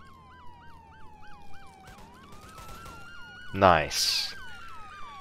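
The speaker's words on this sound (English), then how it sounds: "So many goddamn sirens." Police sirens wail in the Roblox game ER:LC, one cycling rapidly while another sweeps slowly, with a loud burst of mic static and a brief spoken word partway through.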